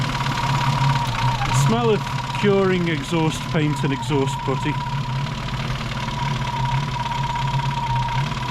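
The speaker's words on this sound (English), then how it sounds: "Nice clattery tappet noise." A big block V8 idles with a clattery tappet noise and a warbling rumble, running steadily and close throughout while someone talks over the first half.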